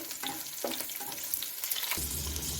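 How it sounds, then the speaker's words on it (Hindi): Loud sizzle and crackle as hot tempering hits a pot of dhaba-style dal, with bursts of spattering that settle into a steady fry. "तो अब जो तड़का हमारा रेडी हो चुका है तो अब हम इसको जो है वो दाल में डालते हैं"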